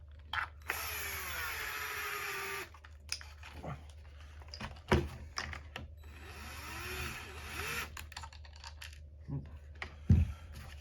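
A small countersunk screw drops into a Traxxas LCG chassis during an RC drag car build, giving light metallic clinks amid scattered handling and tool noises.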